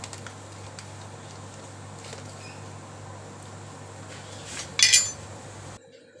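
A spoon stirs Thai clear soup in a pot holding winter melon, carrot, wood ear mushroom and pork balls, giving soft scraping over a steady kitchen hum, with a brighter metallic clink near the end before the sound drops away.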